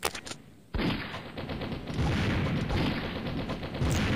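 Rapid bursts of gunfire in the mobile shooter game Mini Militia, loud and dense, with overlapping shots and a brief pause early before the firing resumes and keeps going.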